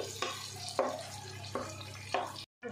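Tomatoes fry in a pan for upma and get stirred, with a soft steady sizzle broken by four regular scraping stirs of the spoon, close and fairly quiet, then a brief cut to silence.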